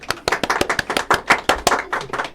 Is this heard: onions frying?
no